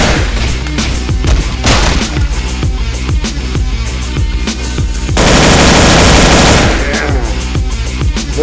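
Sustained automatic machine gun fire from the indie video game Wake The Dragon, rapid bursts of loud shots running throughout with a denser, heavier barrage in the middle stretch.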